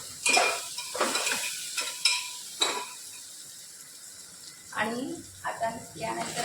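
Masala rice seasoned with Maggi masala sautéed in a pan, heard as intermittent scraping stirs with a light sizzle, in bursts separated by quieter gaps.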